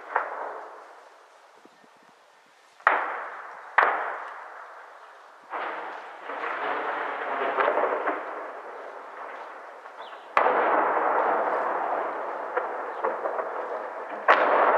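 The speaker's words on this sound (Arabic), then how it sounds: "قصف عنيف راجمات الصواريخ" Heavy rocket-launcher shelling strikes a neighbourhood in Daraa, with several sharp booming impacts, each followed by long rumbling echoes, spaced irregularly a few seconds apart and heard from a distance with no speech.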